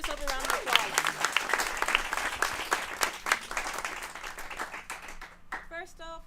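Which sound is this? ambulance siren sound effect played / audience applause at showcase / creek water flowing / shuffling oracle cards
audience applause at showcase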